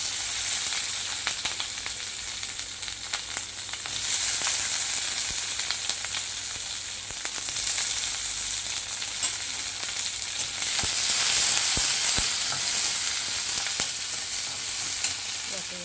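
Onions and tomatoes sautéing in hot oil for a puffed-rice chutney, giving a continuous close sizzle with light stirring and no voices over it.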